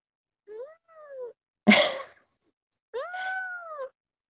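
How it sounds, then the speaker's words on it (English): A pet cat meowing softly at home, two gentle drawn-out meows separated by a brief rustle, close and quiet with no talk over them. "He's kind of softly meowing here."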